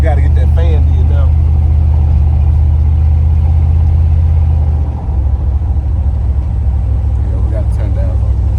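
A car with a newly fitted exhaust, heard up close: a deep, steady low rumble at idle that dips briefly midway and then settles back, with people talking over it.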